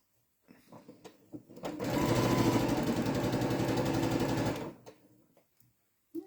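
A sewing machine stitches fabric in one steady, buzzing run of a few seconds, rising from a slow start and then winding down to quiet handling noises.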